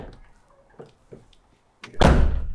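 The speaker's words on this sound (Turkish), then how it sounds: "Kapı kapanmıyor abi. Sert yapacağım biraz." A car door with new rubber seals is slammed shut hard; a few soft knocks and faint handling sounds come first, then one loud, heavy thud with a short ringing tail, close and on its own.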